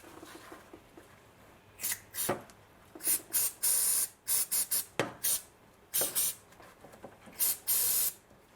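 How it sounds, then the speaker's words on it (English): Short hissing bursts from an aerosol can of electrical contact cleaner sprayed onto a plug of a 2006 BMW E90, a dozen quick sprays in irregular clusters, close and fairly loud with quiet gaps between. "and just gonna spray it on the plug."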